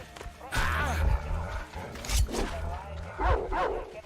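Dogs barking in the video game Metro Exodus, several loud close barks and yelps in bursts over a low rumbling game soundscape, with speech-like voices mixed in.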